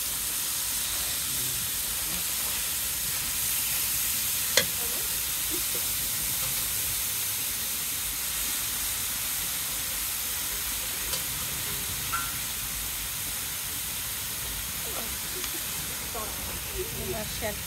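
Food fries in a pan with turmeric and chilli powder as it is stirred, giving a steady, moderate sizzle and hiss with occasional light utensil taps, while people talk faintly in the background.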